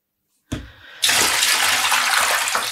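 Tap water runs into a pot being filled to submerge yarn for dyeing, a brief splash followed by a loud, steady rushing stream close by.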